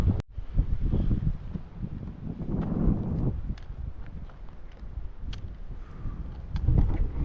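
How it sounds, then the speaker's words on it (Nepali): Strong mountain wind on the North Annapurna Base Camp trek in Nepal buffets the microphone in low, rumbling gusts that rise and fall, with a few faint clicks and knocks. "हावा बवाल चल्यो यार"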